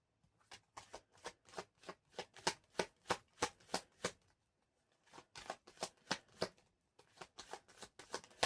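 Tarot cards are shuffled in quick riffling bursts, a rapid series of crisp flicks repeated in three runs with short pauses between.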